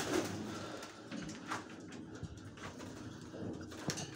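Homing pigeons at a loft give soft, low cooing that comes and goes over steady background noise, with a few brief knocks and flutters nearby.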